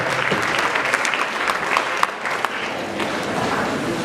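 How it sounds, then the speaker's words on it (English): Steady crowd applause fills the air at a senior high school's 50th anniversary event, continuous and close with occasional sharper individual claps. "Let's continue to clap while our boss takes up the mic."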